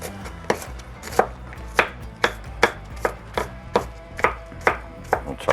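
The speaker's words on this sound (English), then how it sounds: "We'll chop them up a little chop finer." A knife chopping onion on a cutting board while making bacon meatloaf: steady, evenly spaced crisp chops, about a dozen in a row, close and fairly clear over a soft kitchen background.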